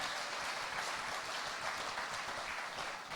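A crowd at a spiritual discourse in Chennai gives a warm round of applause welcoming a musician and his accompanists, a continuous, even roar of many hands clapping with no one speaking.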